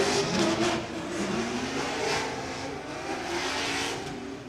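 Drift car engine without mufflers revving hard at a drift event, loud, raw and sustained with rising and falling pitch sweeps, close by and continuous with no talk.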